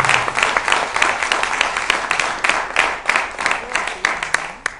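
An audience applauds a band's 15-year-old percussionist with dense, steady clapping that carries crowd noise and holds at a moderate level throughout.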